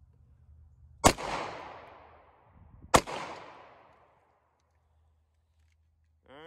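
Two loud, sharp handgun shots fired outdoors at target practice, about two seconds apart. Each crack is followed by a long rolling echo that fades into quiet.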